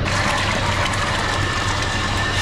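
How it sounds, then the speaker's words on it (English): Four litres of Bacillomix liquid are poured into a field sprayer tank for wheat protection. A loud, close, continuous gushing rush fills the clip, with a low steady hum underneath. "nasuli smo 4 litre Bacillom X-a za ova 4 hektara koja radimo eksperiment"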